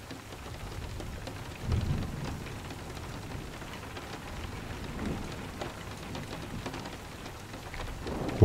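Steady rain patters on surfaces at a soft, even level, broken by a few faint low rumbles of distant thunder.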